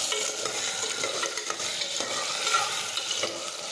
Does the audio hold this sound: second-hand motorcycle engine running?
no